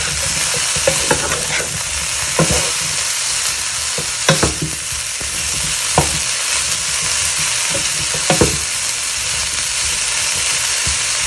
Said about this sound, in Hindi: बीफ मैंने हाई पे रखी हुई है अभी तक।